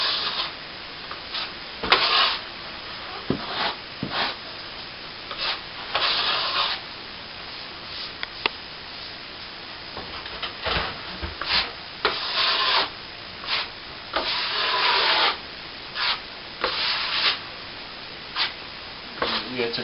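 A plastering trowel scrapes and rubs in repeated rhythmic strokes across fresh plaster while polishing a patched hole in a plasterboard ceiling, close and crisp, with short pauses between passes.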